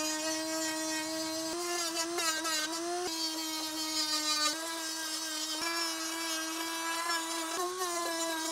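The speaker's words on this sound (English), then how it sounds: "I'm going to use my Dremel to kind of cut out some areas for our wheels to go." Dremel rotary tool with a cutting wheel grinding wheel wells into a wooden skateboard deck, a steady high-pitched whine running continuously with small pitch dips as the wheel bites, no talking.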